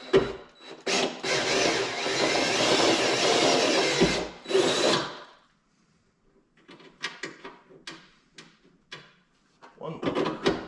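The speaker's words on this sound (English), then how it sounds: "Gonna use the rib nut, a little Christmas tree bit from Horrible Freight, to drill my holes for it." A power drill with a step bit bores holes for rivet nuts in the trunk area of a 2015 Dodge Charger Pursuit: one long loud grinding run, a brief second burst, then quieter clicks and taps of handling.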